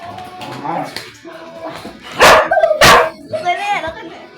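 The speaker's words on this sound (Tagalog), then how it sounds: "Dalawang aso eh." Dogs bark and yip excitedly in a few loud bursts, with whimpering between, while people talk close by.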